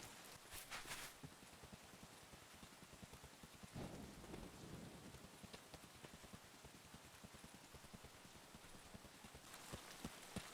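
Rain pours in Escape from Tarkov, a continuous dense patter of drops on surfaces at moderate level with occasional louder splashes, with no talk.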